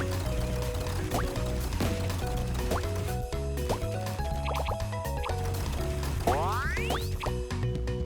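Flying ducks quack amid busy, layered game music and effects in the video game Yellow Trouble, with short honking blips and rising tones over a dense, loud, continuous soundtrack.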